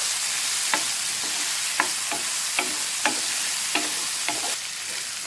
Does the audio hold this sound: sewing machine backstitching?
no